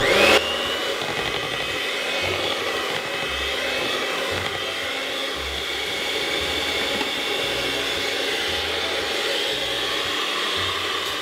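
An electric mixer whirs steadily, blending port and brandy into a Christmas mincemeat cake batter, close and constant after a brief louder start, with no talking.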